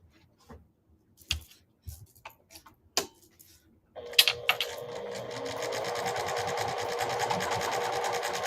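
A sewing machine stitches thread down onto fabric for a festive craft project; a few separate mechanical clicks come first, then a loud, continuous rapid whirring hum. No one speaks.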